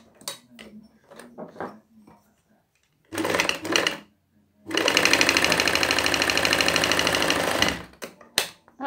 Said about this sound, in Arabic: غادي نخيطها هكا على الظهر ديالها ماشي على الوجه